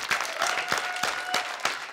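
Studio audience on an Armenian TV talk show claps steadily for about two seconds, a dense patter of hands with rhythmic peaks, while a thin tone hums underneath.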